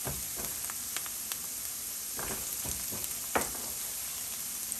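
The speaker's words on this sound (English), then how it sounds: "Stir occasionally while frying the onions." Onions and chopped green chilies frying in a pan for palak dal, a steady soft sizzle with scattered clicks and a few sharper taps of a spoon; close but fairly quiet, with no one talking.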